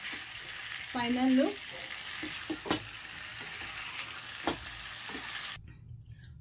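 Chicken malai tikka mixed in a hot pan: continuous sizzling with a few sharp spoon scrapes and knocks, someone briefly speaking over it, then the sound drops away abruptly.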